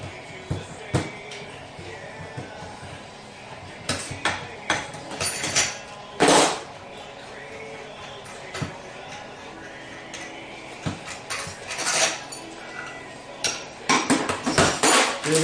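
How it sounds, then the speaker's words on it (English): Snap ring pliers release a snap ring while a racing Powerglide transmission is being taken apart. The clip is a close series of scattered metallic clicks, taps and clanks, with one heavier clunk partway through. "Release that snap ring."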